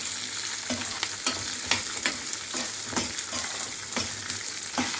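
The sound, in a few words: garlic and shallots frying in a pan for greens chutney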